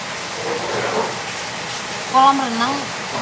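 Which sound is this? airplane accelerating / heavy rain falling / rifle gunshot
heavy rain falling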